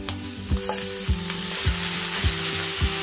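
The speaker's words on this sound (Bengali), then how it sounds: "এই শাকটাকে আমি তেলের মধ্যে নেড়ে চেড়ে ভাজতেই থাকবো" Boiled kochu saag greens fry in hot oil with garlic, a steady bright sizzle punctuated by regular rhythmic stirring strokes roughly every half second, close and clear with no talking.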